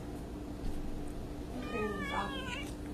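A young kitten gives a soft, thin meow near the end, close by, over a steady low background hum and faint rustling, with no talking.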